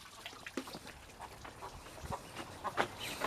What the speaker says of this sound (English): Now these guys are the baby chickens.